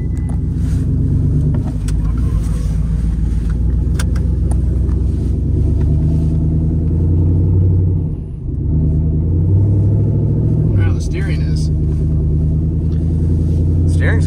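Inside a 2024 GMC Sierra regular cab with a swapped 6.2L V8 and simple exhaust, the engine rumbles loudly and steadily while driving, easing briefly midway before the deep drone resumes.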